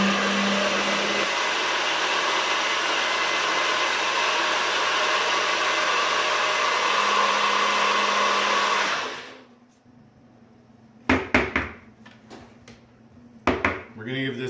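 A blender whirs steadily while mixing a sauce for country style ribs, a loud, continuous motor roar for about nine seconds that cuts off abruptly, followed by a few sharp knocks and clatters of the kitchen equipment.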